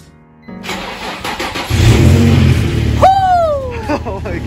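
A 2003 Nissan 350Z starts up, its engine catching with a rising rev that settles into a loud, close, steady idle lasting several seconds, while voices speak over it.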